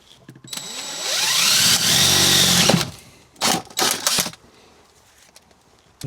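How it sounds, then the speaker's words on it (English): A drill boring a cable hole through the body panel of a 2015 Land Rover Defender Puma 110, whining steadily for about two seconds and then pausing before two more short bursts, close up. "I'm just going to pop a hole through here so the cable can come into the battery bay."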